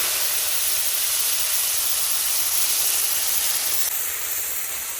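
Ground mustard spice paste hits hot oil already holding nigella seeds and a broken green chili, for a mustard bhola fish curry. A loud, steady sizzling hiss fills the whole stretch and eases slightly near the end, with no talking.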